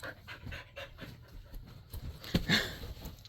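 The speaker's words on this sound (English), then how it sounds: "The dogs just came flying up too." Several dogs pant close by in quick, repeated breaths, with a brief whimper or scuffle partway through and no talking.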